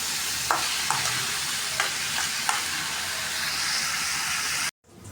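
Vegetables fry with a constant loud sizzle in a pan, with a few sharp scrapes of a stirring utensil before the sound cuts off abruptly.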